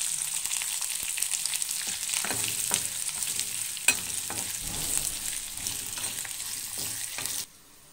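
Dried red chillies, curry leaves and asafoetida fry in hot oil with a continuous close sizzle, broken by occasional sharp crackles and spoon stirring, before cutting off abruptly near the end.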